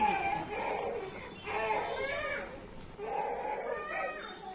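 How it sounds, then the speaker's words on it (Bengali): A young girl cries and wails in the background of a kitchen while a thick gravy with fried chhana bora (cottage cheese fritters) is being prepared, her sobbing voice rising and falling in several bursts across the moment. "আমার ছোট মেয়ে আছে, সে কান্না করছিল, সেই আওয়াজটা উঠে গেছে"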